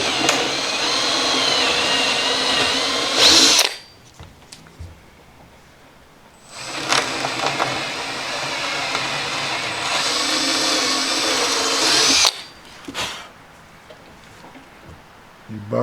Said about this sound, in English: I need to drill the top hole out